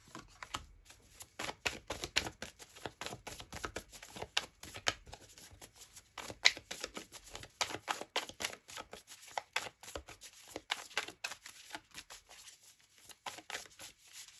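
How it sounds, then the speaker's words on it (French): Tarot cards being shuffled and drawn, a long run of rapid, dense riffling flutters and light slaps close by, steady and busy throughout with brief pauses and no clear speech. "je vais prendre une carte pour les célibataires, une carte pour les couples."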